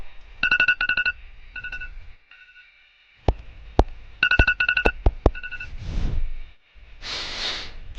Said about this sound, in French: Ça doit être mon téléphone, faut vraiment que je le change.